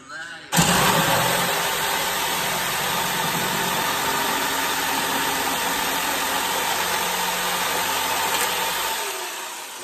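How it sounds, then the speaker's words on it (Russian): An engine cranks and catches, then runs steadily at a loud, even idle for several seconds before stopping abruptly, heard up close at a house construction site. "сейчас пошел двигатель"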